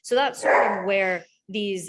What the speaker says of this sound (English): that's my dog being extra loud in the background